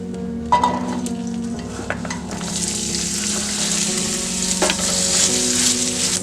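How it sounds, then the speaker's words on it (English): Garlic cloves and chopped onion sizzle in hot oil for a birria base, a steady close frying hiss with stirring scrapes and a few clinks, growing brighter and louder toward the end, no voices. "We're gonna add the cloves of garlic and the chopped onion."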